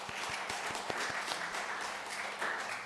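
A church congregation applauds to welcome first-time visitors at a Korean church service in the Netherlands, a sustained burst of many hands clapping with a few sharper claps, fairly soft and distant.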